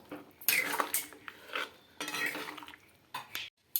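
Egg curry is stirred in a pot with a utensil, making several separate bursts of clinking and scraping against the pot, close and moderately loud, with short pauses between strokes.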